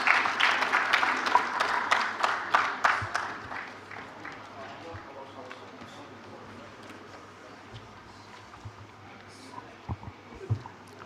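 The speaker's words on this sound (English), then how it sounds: "Please, can we give our president a round of applause?" Audience applause for the institution's president at a professional fellows' induction and lecture, dense clapping in the first few seconds that thins to scattered claps and quiet room noise, with a few louder isolated claps near the end.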